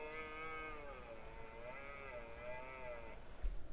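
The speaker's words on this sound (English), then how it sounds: "Big old stag." A red deer stag in the hills lets out a long, drawn-out roar with a wavering, moaning tone for about three seconds, heard at a distance over faint wind, followed by a brief thump.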